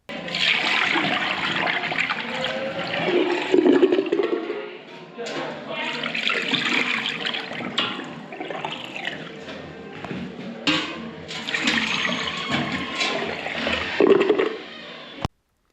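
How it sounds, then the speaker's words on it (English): Water poured down a drain at a hospital after a blocked macerator was cleared rushes and gurgles in loud, uneven surges that continue for several seconds, ending with a sudden stop. "we're going to pour some water down here, and hopefully it should all run away now"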